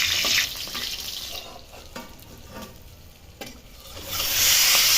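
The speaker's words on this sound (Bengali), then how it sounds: "কড়াইয়ে সর্ষের তেল দিয়ে গরম হলে তারপর ফ্লেম লো টু মিডিয়ামে রেখে একটু সময় নিয়ে ভাজার কাজটা করলে বেশি ভালো হবে।" Shrimp wrapped in pumpkin leaves fry in mustard oil in a kadai over a low-to-medium flame, giving a close, bright sizzle that swells at the start and end with a quieter, crackling stretch and faint clinks between.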